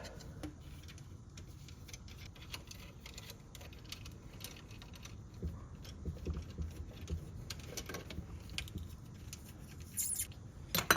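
Small T8 Torx screws come out of a VW MIB2 head unit with faint, close-up ticking and scraping clicks from the driver, irregular and quiet over a low background hum.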